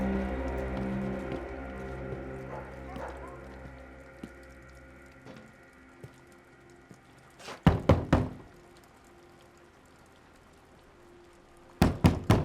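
Two bursts of sharp knocking on a door, each a quick cluster of three or four raps, in an eerie horror scene with a low ambient drone and faint background sounds.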